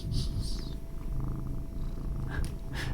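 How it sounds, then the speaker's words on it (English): A cat purrs steadily on a desk, close to the microphone, a soft continuous rumble with gentle breathing rhythm across the whole stretch and no talking. "You can hear Stanley just purring away on my desk here."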